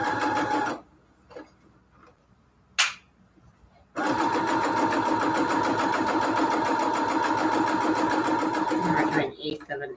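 A sewing machine runs a steady fast stitching burst while sewing a tiny eighth-inch seam on a cathedral window quilt pillow case, after a short start and with a voice talking over parts of it.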